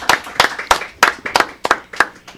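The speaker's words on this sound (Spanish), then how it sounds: "un aplauso" Applause at a school concert after a violin performance by students: a small group claps in a steady, fairly loud rhythm, individual hand claps clearly separated, with no talking over it.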